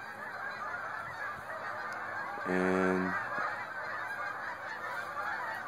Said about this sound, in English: As you could probably hear in the background, there's a lot of geese.